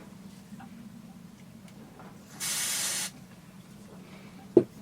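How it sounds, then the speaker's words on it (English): Carb cleaner sprays onto boat engine parts in one short hissing burst of about half a second, over a quiet background, followed by a sharp click. "I'll clean everything with this carb cleaner"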